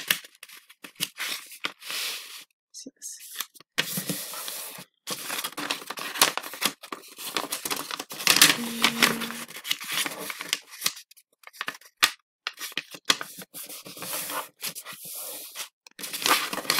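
A square of paper is folded into rectangles for an origami barnacle craft, giving close, crisp rustles and sharp creasing crinkles in irregular bursts with short pauses between. No one speaks.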